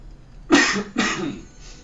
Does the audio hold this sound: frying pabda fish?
no